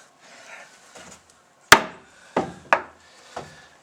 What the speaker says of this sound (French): Et là on fixe avec un petit clou ici.